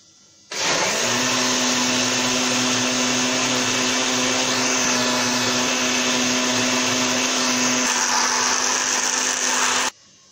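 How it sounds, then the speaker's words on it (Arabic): An electric blender whirs steadily at high speed for about nine seconds, mixing cake batter with milk, a loud constant motor drone that starts and stops abruptly. "وغادي نطرب هاد المكونات جيدا في الخلاط الكهربائي."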